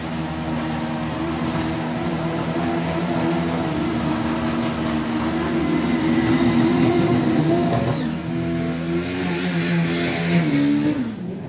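Super Street Bike drag racing motorcycles at the Easter Nationals drag strip, a loud sustained engine roar with rising and falling revs across the run, no talk.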